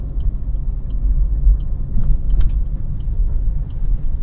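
A car being driven in second gear during a driving lesson, giving a low steady engine rumble inside the cabin with a faint click partway through.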